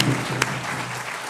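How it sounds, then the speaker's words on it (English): A graduation-style celebration audience claps in a steady, moderately loud wash of hands, with one sharp clap near the start and a low hum beneath, lasting just over a second. "could we get a round of applause to Savannah's mom right now?"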